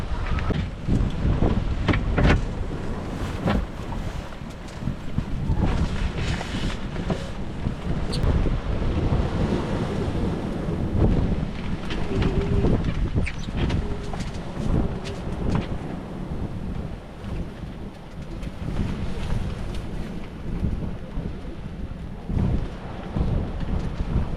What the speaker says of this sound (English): I think we've got this gust coming through.